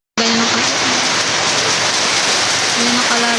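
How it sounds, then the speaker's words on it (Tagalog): Heavy rain pours down steadily over an outdoor dig for a septic pit, a dense, loud hiss that starts suddenly and holds without a break, with faint tones beneath. "Medyo malakas yung ulan."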